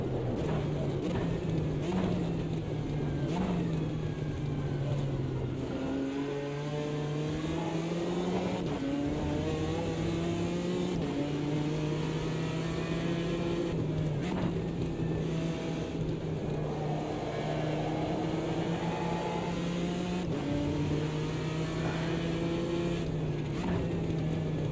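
A GT4 race car screams around Monza in the Automobilista 2 racing game, its engine rising and falling through gear changes and hard acceleration. The note drops on lift-off and builds again in a continuous, close, loud drone with brief shifts.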